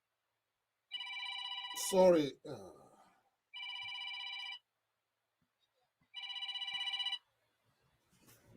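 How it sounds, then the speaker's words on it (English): A telephone rings for an incoming call in three separate electronic trilling bursts, each about a second long, with short gaps between. A voice briefly speaks between the first and second rings. "I have to turn off my phone because many people are calling."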